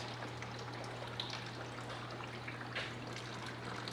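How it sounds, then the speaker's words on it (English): Water trickles through a very small garden hose that kinks easily: a steady, close, even hiss of flowing water runs alone over a faint constant low hum. "The very small hose does not let a whole lot of water through"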